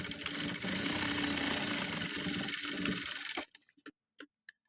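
A sewing machine stitches fabric with a steady, fast mechanical whir for about three and a half seconds, then stops, leaving a few faint isolated ticks.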